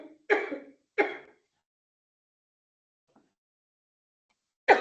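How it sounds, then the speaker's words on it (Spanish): A few sharp throat-clearing coughs in quick succession, close, followed by silence and another brief cough at the end. "un ataque de tos"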